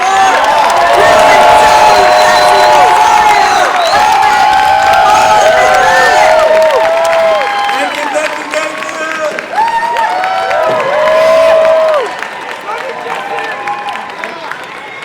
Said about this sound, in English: everybody put your hands together and double tap your applause